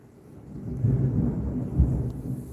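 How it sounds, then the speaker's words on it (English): A low, rolling rumble of thunder swells and lingers during a November thunderstorm in Ohio, moderately loud and steady for a couple of seconds with no voices. "it's thunderstorms in November"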